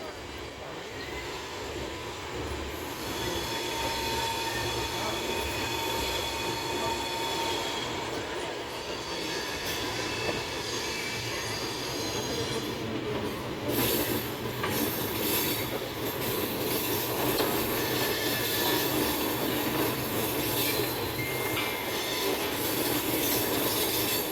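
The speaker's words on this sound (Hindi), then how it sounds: "दोनों ट्रेन का सेम टाइम अराइवल हो रहा है देखिए।" Trains rolling into a station on a Gorakhdham Superfast Express journey, a steady loud rumble of railcars and wheels with faint squeals, continuous throughout, with some talk in the background.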